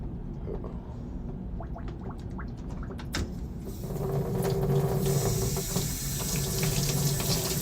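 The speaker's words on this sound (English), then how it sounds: "This is hot water." Hot water runs steadily from a tap into a sink, a continuous rushing stream that swells louder partway through, with a voice briefly heard beneath it.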